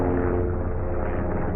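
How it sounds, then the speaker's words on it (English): A helicopter passes over an outdoor spot near a large old oak tree, a steady, fairly loud rotor and engine drone that holds evenly throughout with no talking. "Helicopter flying over"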